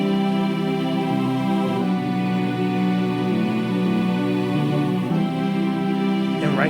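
Song hook built from pipe organ, tuba and saxophone presets in a production, a dense steady layered melody playing loud and continuous throughout with sustained brassy and organ tones.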